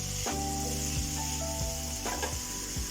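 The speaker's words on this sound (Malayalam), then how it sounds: "ഇത് നല്ല ക്രിസ്പി ആയിട്ട് ഫ്രൈ ചെയ്തെടുക്കാം" Onions frying in hot oil with salt and turmeric, a soft continuous sizzle close by, interrupted by a few scraping strokes of a spoon against the pan.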